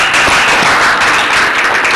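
Audience applauding a team in a classroom discussion session: dense, steady clapping filling the whole moment at close range, without speech.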